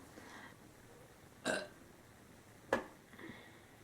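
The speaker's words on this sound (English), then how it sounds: "I always burp in every single video." Two short, faint human burps about a second apart, close to the mic against quiet room tone.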